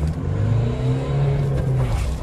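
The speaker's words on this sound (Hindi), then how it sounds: "बाकी अब करके देखते हैं इसको रेव यहाँ से" A 2023 Mahindra Thar 1.5 L diesel 4x2 revs on an empty road, its engine droning loud and close with a steady rising and falling growl.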